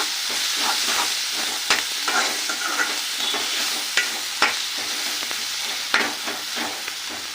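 Tomatoes sizzle in a hot pan with salt while being stirred for an egg and ear-bean curry, a steady frying hiss broken by several sharp scrapes and clicks of the spoon against the pan, close and without speech.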